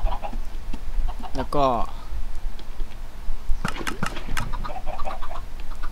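Minecraft chickens cluck in a brief, clear burst of rising and falling clucks, followed by scattered game clicks and taps, while someone talks in Thai.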